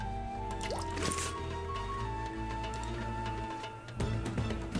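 Liquid drips and gurgles as holy water fills a flask in the video game Dracula: Origin, with small splashy plops over a soft steady background hum.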